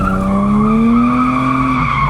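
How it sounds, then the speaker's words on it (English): A Lexus drifts on a speedway in Cyprus, tires spinning and skidding in a steady, loud, sustained squeal over the car's rising engine tone, close and continuous. "Rev it up quite high because it's very slow, the Lexus, and then pop the clutch, and then let the wheel spin in your hand"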